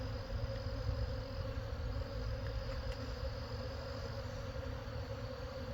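Honey bees buzz around an opened hive, a constant, even drone of many wings that stays fairly faint with no break throughout.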